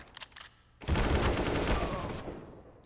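Rapid automatic rifle fire from the video game CS:GO on the Mirage map during an esports match, a few light shots followed by a dense, loud sustained burst that slowly fades.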